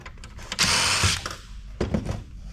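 A screw holding a board inside an old Compaq PC is backed out with a tool, giving a short grinding burst followed by a few clicks and scrapes, close and fairly quiet, with no talk.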